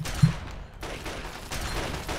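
Gunfire in the video game Fallout 3: a sharp shot at the start followed by bursts of rapid fire, fairly loud and continuous across the short stretch, with no talking.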